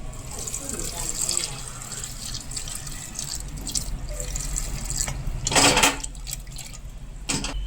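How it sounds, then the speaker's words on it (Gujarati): Water splashes and trickles into a pressure cooker over chopped raw banana pieces at close range, with a brief louder gush near the middle over steady background noise. "કેળાના ટુકડા ડૂબે તેટલું જ પાણી નાખીશું, વધારે પાણી નહીં નાખીએ।"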